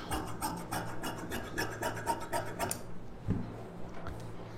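Scissors cutting folded fabric for a sleeve, with a rapid series of close rasping snips over about three seconds, then a quieter pause with one soft thump.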